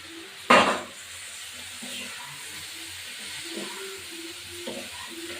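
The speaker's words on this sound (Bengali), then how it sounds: "এবার আমি চিংড়ি মাছগুলো দিয়ে দেবো।" Prawns going into a pan of tomato masala: one sharp burst of sizzle and clatter, then a low steady frying hiss with faint scraping as they are stirred.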